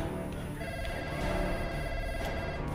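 A telephone ringing with a steady electronic tone, fairly loud and continuous for a few seconds against a dense background, with no one speaking.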